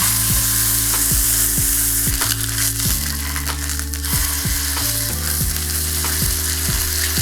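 Marinated food for a Japanese meal frying in a pan, a loud, steady close sizzle that crackles continuously without pause, with low tones shifting underneath and no talking.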